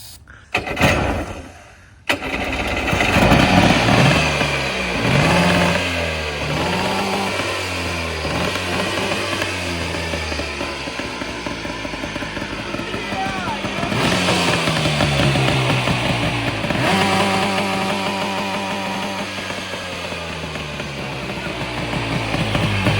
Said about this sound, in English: The backfire is insane.